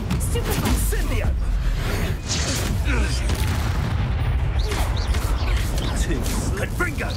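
A video game fire spell, Incendio, roars as a continuous dense burst of crackling, whooshing flame lasting several seconds, loud and close, with a voice calling out over it.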